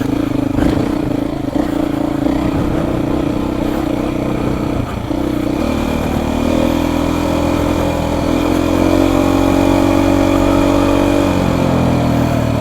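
A Beta motorcycle engine runs steadily under load while riding off-road, its loud continuous drone holding a low harmonic tone with brief shifts in pitch as the throttle changes, close and unbroken throughout with no talk.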